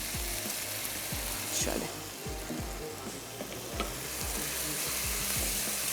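Chicken pateela tikka frying in oil in a home kitchen, a steady loud sizzle with repeated stirring scrapes throughout, and a voice speaking briefly over it.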